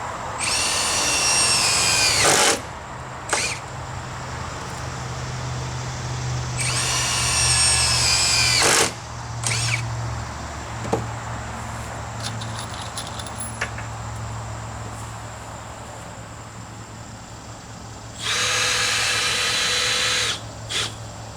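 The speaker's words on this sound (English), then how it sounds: "We're going to go ahead and drill in that one." A power drill drives screws into a deck support board outdoors, three loud high-pitched whirring bursts of a couple of seconds each, separated by clinks of handling and a steady low engine-like hum in the background.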